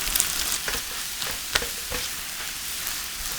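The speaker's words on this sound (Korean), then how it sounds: "식용유는 3스푼 두르고 달궈지면 계란과 부추를 넣고 골고루 뒤집어가며 볶아주세요." Eggs and garlic chives stir-fried in three spoons of hot oil in a pan over medium-low heat, producing a steady close sizzle punctuated by several sharp spatula scrapes and taps, with no talking.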